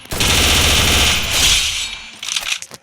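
Automatic weapon fire in the mobile shooter Free Fire: a loud sustained burst of rapid shots for about two seconds, then a few scattered cracks and clatter as it ends.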